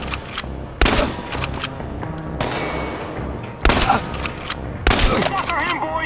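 Sharp gunshots from the video game Chernobylite ring out in irregular bursts and single cracks over steady background rumble. Some reports are loud and near, others fainter, with voices shouting in between.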